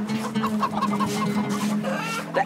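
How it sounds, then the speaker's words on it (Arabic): Chickens cluck steadily in a village household, several birds close by with overlapping clucks and short calls running throughout, and no one speaking. "دي الفراخ مالها يا اختي؟"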